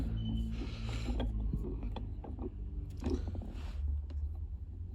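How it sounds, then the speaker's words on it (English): Set screws are tightened on a Garagistic chassis-mount short throw shifter, producing a steady run of small metallic ratcheting clicks and tool scrapes up close, with continuous low mechanical rumble underneath and no talking. "Now that we got that all in, we just got to tighten down these set screws."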